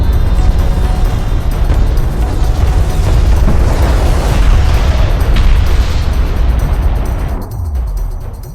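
An airstrike in Homeworld: Deserts of Kharak hits as loud, continuous rumbling explosions with heavy low booms and crackling debris, then fades near the end.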